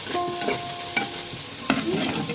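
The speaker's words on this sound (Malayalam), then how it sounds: "വീണ്ടും ചട്ടി അടുപ്പത്ത് വെച്ച് എണ്ണയൊഴിച്ച് സവാള ഇട്ട് നന്നായിട്ട് വഴറ്റുക" Onions being sautéed in oil in a new clay pot on a stove, with steady stirring scrapes over a soft, continuous sizzle and a few sharper knocks of the spoon against the pot.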